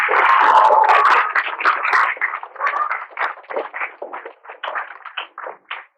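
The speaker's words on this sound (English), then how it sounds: "we'll give them all a round of applause" A school assembly crowd gives a round of applause, dense clapping at first that thins into scattered, uneven claps over six seconds, with no voices standing out.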